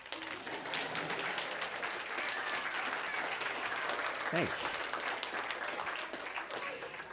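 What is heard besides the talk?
audience applause after a two-hand yo-yo trick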